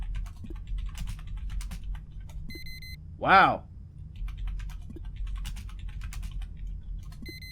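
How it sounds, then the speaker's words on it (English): Rapid typing on a computer keyboard during a session of the game Duskers, soft close clicks in quick runs under low background hum, broken by a short voiced exclamation. "you will hear a lot less of me typing very soon"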